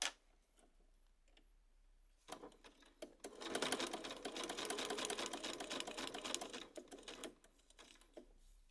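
A sewing machine stitches a straight seam through quilting fabric, a steady rapid mechanical whir that starts softly, runs loud and continuous for several seconds, then stops, leaving faint clicks.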